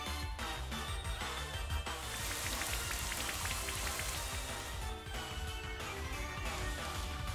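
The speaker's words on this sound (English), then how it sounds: "Hit you with the rain dance, baby." Steady rain hisses and patters from a Rain Dance move in Pokemon Shield, a dense continuous wash of drops with game music underneath.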